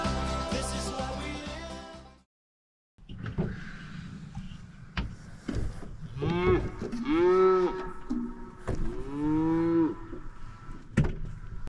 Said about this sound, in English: This is a first, being woken up by cows.